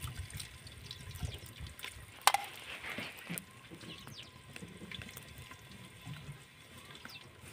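Running tap water splashes and trickles as potatoes are washed in a village kitchen, with a soft steady flow, a brief sharp clink near the start, and light drips and handling sounds, fairly quiet and with no talk.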